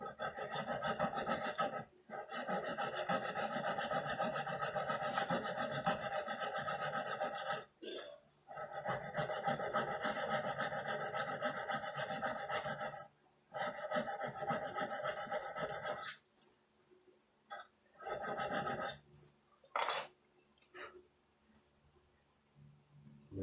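Hand saw cutting a dovetail joint in wood, with rhythmic rasping back-and-forth strokes in long runs broken by short pauses, then scattered lighter scrapes and taps near the end. Close and clear, with no talking.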